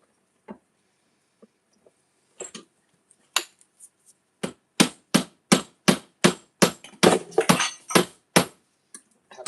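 A hammer taps sharply and loudly, sparse knocks at first, then a quickening run of evenly spaced strikes near the listener.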